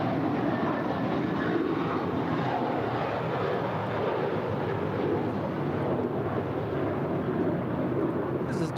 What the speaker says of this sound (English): This is JetBlue Airways flight 1524 departing to JFK. It's an A321.